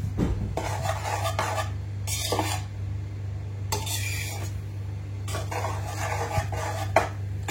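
Rice is stirred in a worn pan, with repeated scraping, clinking strokes of a spoon in uneven bursts over a steady low hum, close and fairly quiet, no voices.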